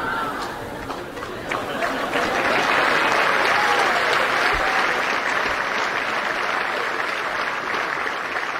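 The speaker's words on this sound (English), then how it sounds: "as the applause indicates, many of us know that Kevin is the Millbrook Mustang" Sustained audience applause at a school prize night, steady dense clapping from a large crowd filling the hall, with faint chatter underneath.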